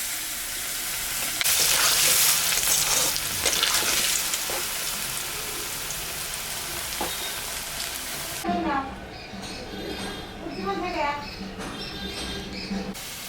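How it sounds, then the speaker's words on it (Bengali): Potatoes frying in leftover pangas fish oil tempered with cumin, dried red chillies and bay leaves, a steady loud sizzle, then stirring with squeaky scraping and crackle near the end. "আলুটা একটু ভাজে নেব।"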